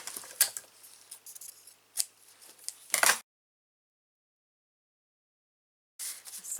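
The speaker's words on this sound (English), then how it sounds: "So I'm just going to cut off a piece of this." Scissors snip through junk journal paper in a few short, close crisp cuts with rustling between them, followed by a silent gap and then more paper handling.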